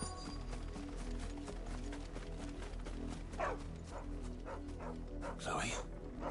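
A dog barks and yips in the fantasy video game Final Fantasy XVI, a few short barks rising over a rhythmic clip-clop of hooves and low background music.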